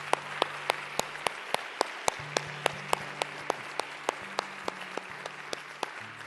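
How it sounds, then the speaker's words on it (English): Audience applause for veterans at a November 11 gathering, a broad crowd wash with a few sharp, regularly spaced near claps standing out, plus a low sustained hum running underneath throughout. "Can we give all the veterans a round of applause here?"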